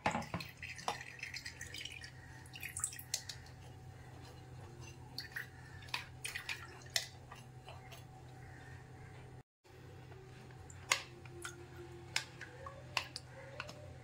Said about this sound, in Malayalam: കുറേശ്ശെ ഒഴിച്ചു കൊടുത്ത് നമുക്കൊന്ന് അരിച്ചെടുക്കാം.